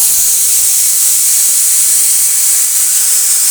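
A pressure cooker cooking mango dal vents steam in a loud, continuous high hiss that stays constant and close for the whole stretch, with no voices.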